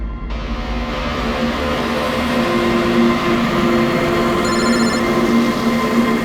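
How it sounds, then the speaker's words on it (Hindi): An unanswered landline telephone rings steadily for several seconds, a loud electronic trill with sustained tones over a low hum, heard alone without talk. "कब से लैंडलाइन पे फोन कर रहा हूं सर, फोन ही नहीं उठा रहे।"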